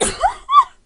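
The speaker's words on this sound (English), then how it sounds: "That was a sneeze, by the way, in case you couldn't tell." A single close, loud human sneeze, short and sharp, followed by a brief breathy tail.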